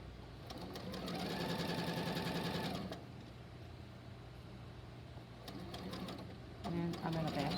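A sewing machine back-stitches a pillowcase seam, its fast steady needle chatter loud and close for about two seconds before easing to a lower hum, then picking back up near the end.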